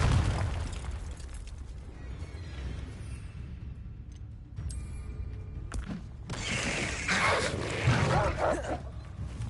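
Confringo blasting spell explosions in Hogwarts Legacy, a rumbling boom followed by sharp bursts and a bright crackling blast near the end, loud and close over game ambience.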